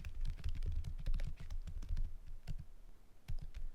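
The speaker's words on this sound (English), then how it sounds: "we can just type in some words ourselves" Words are typed on a computer keyboard, a quick uneven run of close key clicks and taps at fairly low level.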